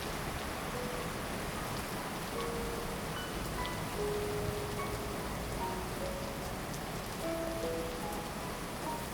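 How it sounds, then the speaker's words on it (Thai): Heavy rain falls steadily and evenly, a dense continuous hiss of drops hitting surfaces with no pauses and no voices. "ฝนก็ไม่หยุดตกสักทีอ่ะ"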